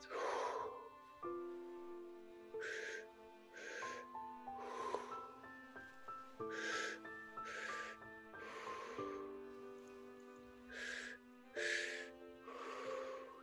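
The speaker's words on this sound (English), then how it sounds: "Breathing into the belly, into the chest, exhaling through the mouth." Slow guided breathing, air drawn in and then exhaled through the mouth, with soft breathy bursts recurring every second or so under a sustained musical drone.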